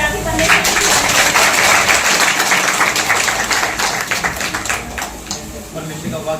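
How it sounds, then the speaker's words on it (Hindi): Dense, steady applause from a congregation at a gathering, loud and sustained throughout, gradually thinning toward the end. "तो ताली बजा के"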